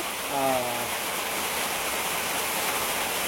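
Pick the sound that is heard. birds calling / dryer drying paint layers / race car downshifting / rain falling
rain falling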